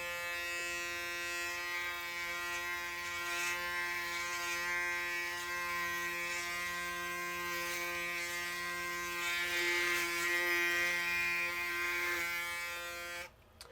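A Braun Series 9 electric shaver running across a face, a steady close mechanical buzz with a constant pitch that hums on for over ten seconds before cutting off abruptly at the end.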